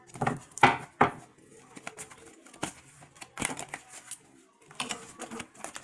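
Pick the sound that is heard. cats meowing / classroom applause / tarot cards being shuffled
tarot cards being shuffled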